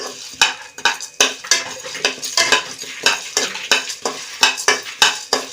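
Peanuts dry roasting in a pan while being stirred, giving repeated rhythmic scraping strokes and rattling of nuts against the metal, close and fairly loud with a faint sizzle between strokes.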